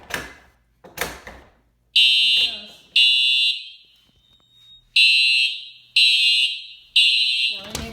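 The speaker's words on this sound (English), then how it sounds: "let's go ahead and test this detector" Home smoke detector fire alarm sounding during a system test: loud, piercing electronic beeps repeat in roughly one-second pulses, preceded by a couple of knocks and short sounds.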